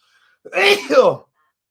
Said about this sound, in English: Sneezing on screen.